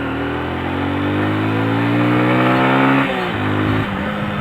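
A motorcycle engine, just downshifted into second gear, revs up with a steady rising whine, then drops off and picks up again, loud and close with no talk over it.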